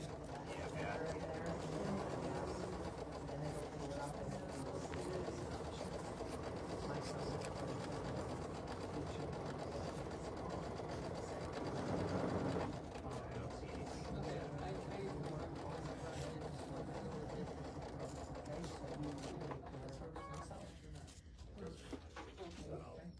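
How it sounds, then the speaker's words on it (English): A sewing machine runs steadily while quilt borders are stitched, a continuous mechanical whirr heard under ongoing talk throughout. "I'm going to go ahead and get that done whilst Patrick is stitching his borders on"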